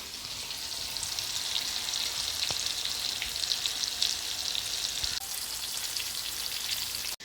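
Food fries in hot oil with a dense, steady crackling sizzle, close and loud, broken by a couple of sharp pops and a brief clunk before cutting off abruptly.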